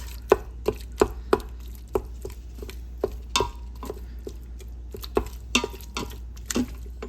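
A utensil repeatedly scrapes and knocks against the pot as ground turkey is broken up while cooking with vegetables for an Instant Pot turkey chili, irregular close clacks over a low steady hum.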